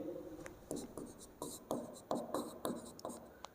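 Chalk or marker strokes on a classroom board during a physics lesson, a series of short scraping, tapping marks in uneven rhythm, fairly close and quiet, with no talking.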